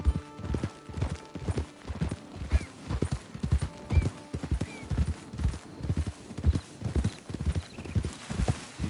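Horse hooves clop in a steady, rhythmic walking pattern throughout, fairly close, with a short whinny partway through, in the video game Red Dead Redemption 2 Online.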